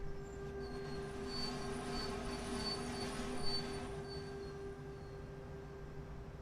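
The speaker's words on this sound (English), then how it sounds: "You can actually hear that brake squealing." Train brakes squeal in the video game Train Sim World on the München–Augsburg main line, a steady high-pitched whine pulsing over a constant low rumble of rolling stock, with no talking.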